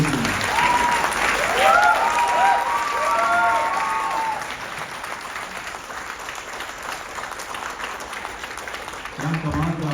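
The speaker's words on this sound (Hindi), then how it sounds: "इनके लिए ताली बजाइए, उन्होंने रोल किया।" An audience applauds at the trailer launch of Sirf Ek Bandaa Kaafi Hai with a lead actor. Dense clapping is strongest at first and eases after a few seconds, while someone speaks over it.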